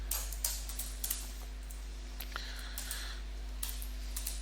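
Computer keyboard keys tapped in short, uneven bursts of light clicks, quiet and close over a steady low electrical hum, with no one talking.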